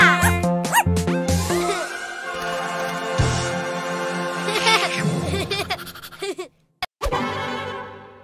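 A children's song plays, with cartoonish dog yips and barks over bright sung melody and musical tones, then a short break of silence before the music returns.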